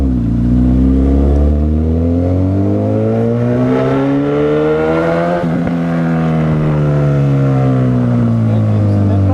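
A Honda CB1000R motorcycle revs hard and steadily on a night ride through a village street, engine pitch rising and falling, with crackling exhaust pops around a gear change near the middle, loud and close throughout.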